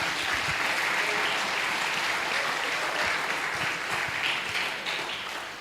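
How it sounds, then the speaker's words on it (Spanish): A church congregation gives loud, dense applause for several seconds, a steady wash of many hands clapping together that tapers slightly toward the end, with no voices standing out. "Denle un fuerte aplauso al Señor"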